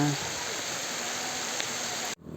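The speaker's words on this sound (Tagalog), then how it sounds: "Umuulan na." Steady rain hisses continuously across the whole stretch while fishing for tilapia, a dense even wash of sound that cuts off abruptly near the end.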